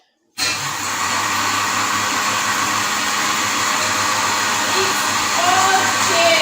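An electric blender grinds ogbono seeds for soup, switching on abruptly into a loud, steady whirring roar that holds constant and swells slightly toward the end, with no speech over it.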